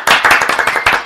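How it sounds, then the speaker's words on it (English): Several people clap in quick, uneven bursts to welcome a guest, loud and close, with no talking over it. "And when Gina Savino comes on, we clap."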